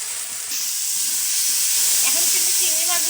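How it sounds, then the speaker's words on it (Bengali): Shrimp sautéing in a pan of cooked-down spice paste, giving a steady close sizzle and hiss with a few faint scraping stirs toward the end. "এখন কিন্তু চিংড়ি মাছগুলো একটু কষিয়ে নেব।"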